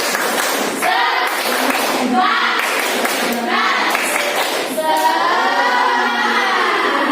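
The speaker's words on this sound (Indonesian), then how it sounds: "coba kita tepuk semangat" A classroom group performs the rhythmic 'tepuk semangat' spirit clap, sharp patterned bursts of hands close by, mixed with chanted voices that rise toward the end.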